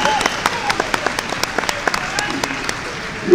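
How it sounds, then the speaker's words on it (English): An audience at a UK system tournament gives a round of applause, steady clapping from many hands across the whole stretch, moderately loud and close, with no talk over it. "Can we give these guys a round of applause, please?"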